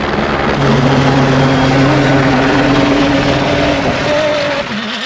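A loud helicopter close by at the Dakar Rally, its steady rotor thrum and engine whine filling the whole stretch, with the pitch shifting slightly as it moves.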